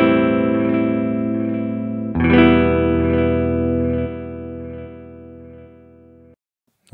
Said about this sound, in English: could always put some effects in there, like a bit of delay.